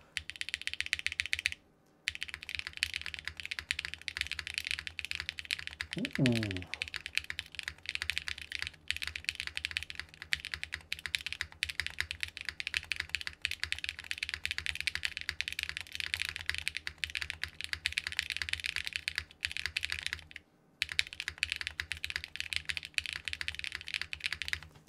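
Rapid clacky keystrokes ring out on The Ziggurat, a plateless mechanical keyboard. The typing is close, dense and continuous, with brief pauses and a spacebar thump. A faint short exclamation is heard once.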